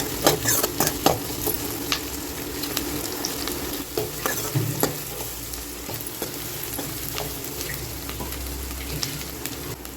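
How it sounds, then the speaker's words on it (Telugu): Country chicken sizzles and fries in a pan while being stirred until roasted, a steady close hiss with scraping stir strokes throughout, and no voices. "రోస్ట్ అయ్యేదాకా వేయించుకోవాలి. ఇలా కలుపుతూ వేయించుకోవాలి."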